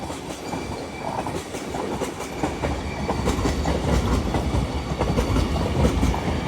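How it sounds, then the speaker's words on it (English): An LNER Azuma train pulls into Doncaster station on the East Coast Main Line, running from London King's Cross to Edinburgh Waverley, with a loud, close rumble and rhythmic wheel clatter that grows stronger as it arrives. No voices. "Arriving in now is your 1211 LNER Azuma service from London King's Cross to Edinburgh Waverley."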